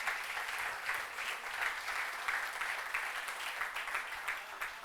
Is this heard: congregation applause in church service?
yes